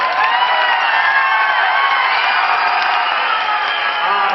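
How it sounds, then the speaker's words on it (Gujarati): A large audience at a Sanskrit festival event claps and cheers for itself, a loud, dense, continuous roar of applause with crowd noise mixed in. "એકવાર તમારા પોતાના માટે તાળીઓ પાડો"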